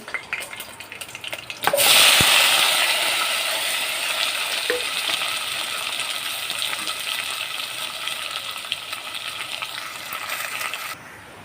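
Tomato, onion, pepper and ginger-garlic paste dropped into a hot pan, a sudden loud sizzle that then settles into a steady close frying hiss, with a few metallic clinks.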